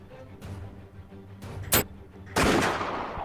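Gunfire in the VR shooter game Operation Serpens: a few sharp shots, then a loud sustained burst of rapid fire at the end, heard up close with no voice over it.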